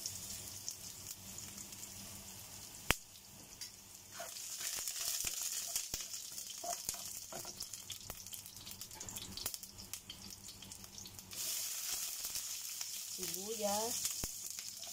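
Shrimp sinigang being cooked in a pan, with a faint sizzle and scattered clinks and clatter of utensils in a quiet kitchen; a brief voice-like sound rises near the end.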